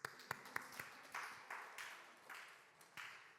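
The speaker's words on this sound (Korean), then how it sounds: "은혜 박수 한번 쳐줘." A church congregation claps in a quick, light burst of separate hand claps, fairly faint and somewhat distant, followed by a softer wash of scattered applause, with no one speaking.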